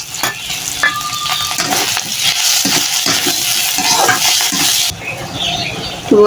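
Dried fish, onion, whole green chilies and garlic frying in a pan, a steady loud sizzle with stirring scrapes throughout, briefly dipping near the end before resuming.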